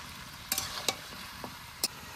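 Meat being fried with ground onion paste gives a few short, crisp sizzling spatters and stirring scrapes over a quiet, faint background, with no talk.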